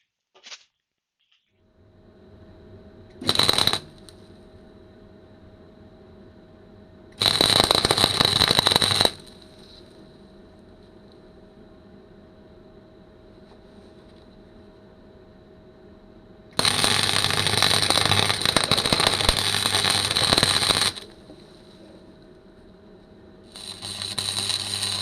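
Angle grinder on a metal bash plate for a BSA Gold Star motorcycle, heard in several loud harsh bursts of a few seconds each, separated by quieter gaps with a faint hum.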